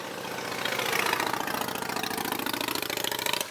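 A nearby motorbike idles by the roadside with a steady, rapid mid-pitched engine pulse that swells slightly after the first half second, then holds at a fairly loud, close level with no talk.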